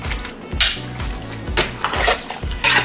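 Rigatoni pasta being stirred with ground beef in a pot, with a spoon scraping and clanking against the metal in repeated strokes, loud and close, with a faint sizzle underneath.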